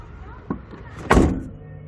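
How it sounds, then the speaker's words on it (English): A van door swings shut after a new mirror and door latch are fitted: a soft click, then a single solid thud close to the microphone, with no one speaking. "make sure the door closes and that doesn't hit"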